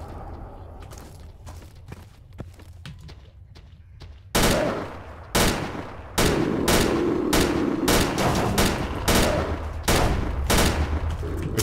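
Rifle fire in STALKER: Call of Pripyat, with loud, closely spaced bursts of gunshots following sparser single shots, plus faint footsteps between volleys, and no talk.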